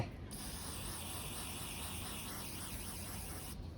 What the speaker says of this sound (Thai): ต้องสเปรย์ไอ้นี่นะ คอนแทคทินเนอร์ระเหยเร็วนะ ห้ามเอาอย่างอื่นไปฉีดนะ